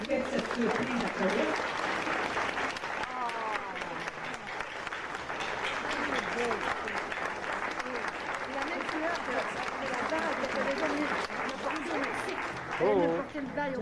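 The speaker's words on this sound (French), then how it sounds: "Est-ce qu'on peut donner une main d'applaudissement à Lucie Vire et à son mari qui ont fait cette surprise à Colette?" Steady applause from an audience at the Sainte Anne shrine on Isle La Motte, Vermont, lasting throughout, with voices and crowd chatter mixed in beneath the clapping.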